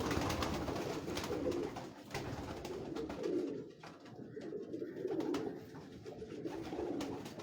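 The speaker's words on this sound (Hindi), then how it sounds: "ये जो तार वाले कबूतर है" Pigeons coo on a rooftop in Lahore in repeated low, throaty phrases, fairly close, with a steady murmur of other birds and ambient noise around them.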